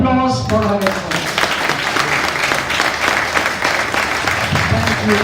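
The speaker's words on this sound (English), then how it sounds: "I think she needs a big applause for her efforts" A yoga science talk ends with loud, sustained audience applause, many hands clapping in a dense, even roll. A voice is heard briefly at the start.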